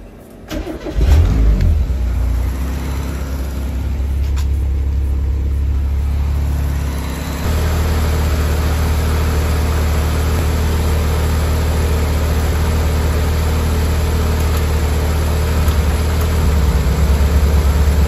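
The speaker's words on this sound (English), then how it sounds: "actually going to do it now while it's idling to get the oil to flow through the lift solenoids" A VVL car engine starts and then idles steadily in a garage, loud and close, with a constant low rumble and no voices over it.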